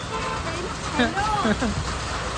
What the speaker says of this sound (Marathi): पाऊस बघा किती आले